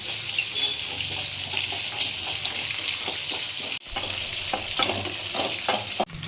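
White sesame seeds frying and being stirred in a pan at home, a steady close sizzle with scraping stir strokes and a couple of brief clatters, no talk.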